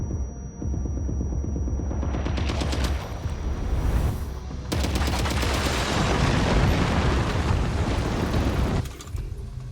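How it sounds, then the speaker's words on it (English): Grenade launcher fire in the video game Death Stranding 2, heavy booming shots and explosions in rapid succession, loud and continuous with a brief lull midway before a dense burst resumes. "Grenade launcher, actually."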